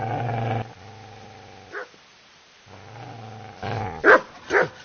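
A dog barks and growls, a sustained low growl broken by a pause, then several sharp barks close by and fairly loud.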